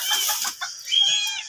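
Chickens clucking and chattering nearby in a quick, busy flurry of short calls, with no speech.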